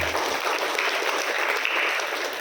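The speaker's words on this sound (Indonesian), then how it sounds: "Boleh tepuk tangan buat Bunda." An indoor audience claps for a participant at a customer hypnosis training session, a dense burst of applause that holds steady and then tapers slightly at the end, with no talk over it.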